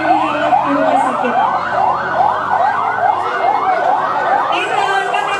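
An ambulance siren wails during a disaster response drill, a loud, close, steady rising-and-falling tone repeating about every half second with no pause.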